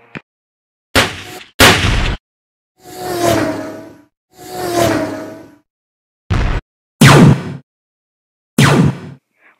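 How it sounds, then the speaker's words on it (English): Blaster fire in a stop-motion Star Wars battle, with separate sharp zapping shots and whooshing bursts firing in irregular succession, loud and close, with silence between them. "Open fire!"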